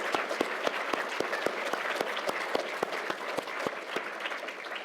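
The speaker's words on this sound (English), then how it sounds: "So everybody give a big clap for each other" Applause at the 2023 AI Awards ceremony, a steady patter of many hands clapping in a hall, moderately close and fairly even throughout, with no talk over it.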